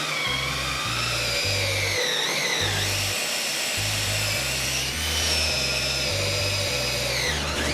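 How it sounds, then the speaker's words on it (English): A power drill bores a 3/4 inch hole straight through a wooden board, whining steadily at high pitch with the motor's tone dipping and rising under load for several seconds, no talking. "now I'm going to drill a hole, and this is going to be a 3/4 inch hole that's going to go all the way through this"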